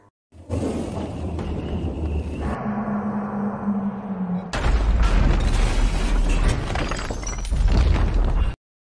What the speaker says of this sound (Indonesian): Dan ketika pemberontak menembakkan mortar lagi, mortar tadi jatuh tepat di depan Ron.